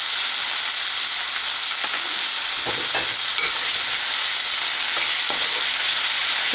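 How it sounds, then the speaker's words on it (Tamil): Tomatoes and salt sauté in a hot pan for mutton curry, giving a continuous bright sizzle with a few soft stirring clicks, close and steady, with no talking. "இப்போ தக்காளி ஆட் பண்ணுறேன். நல்லா வதக்குங்க."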